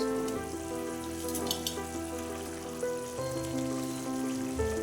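Katla fish fry in hot oil with a steady, dense sizzling hiss like rain, running continuously under louder melodic background music, with no voices.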